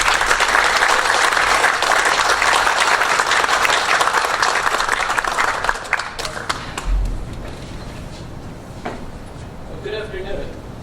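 An audience gives sustained loud applause at a Caltech athletics Hall of Honor induction ceremony. The dense clapping fills the hall for several seconds, then thins to scattered claps and thumps as it dies down.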